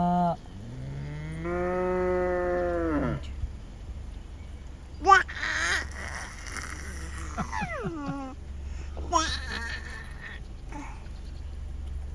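A cow moos in a long, low, close call at the start. Later, voices speak, and calls that rise and fall in pitch sound over a steady low background hum.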